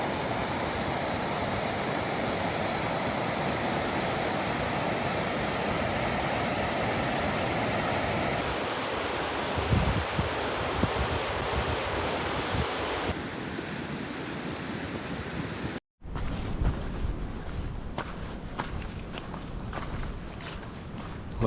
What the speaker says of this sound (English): Well, these are the main falls.